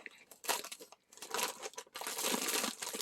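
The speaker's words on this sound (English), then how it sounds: "I think I'm going to have to use my scissors because there's so much tape here" Scissors snip and tear through packing tape on a parcel, giving close, crinkly, crunchy bursts in two main stretches separated by a short pause, with no talk.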